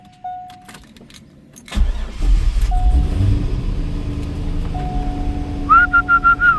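A Chevrolet Corvette Z06 with 40k miles, left abandoned, cranks and fires up close by after a warning chime, then runs with a loud rumble and a few sharp rev blips near the end.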